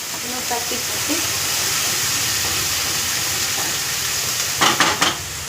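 Onions fry in a pan for a Kerala ulli theeyal, giving a constant loud sizzle and hiss with a few clinks of stirring near the end, while someone talks quietly.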